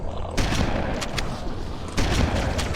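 Assault rifle fire in a Halo-style shooter, a steady loud rattle of rapid shots with a fresh burst near the end, close and dense with no talk.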